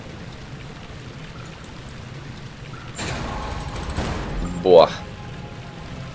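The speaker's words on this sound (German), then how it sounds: "Regen, komm noch über mich." Rain in the horror video game Amnesia, a steady soft patter that thickens into heavier pouring about halfway through, with a man's brief exclamation over it.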